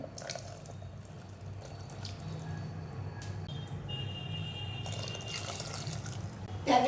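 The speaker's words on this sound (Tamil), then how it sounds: "மிக்சி கழுவி ஊற்றுறேன் நான்" Tap water runs while a mixer grinder jar is rinsed in a kitchen sink for tomato kuzhambu, making a steady, continuous splashing flow with no talking.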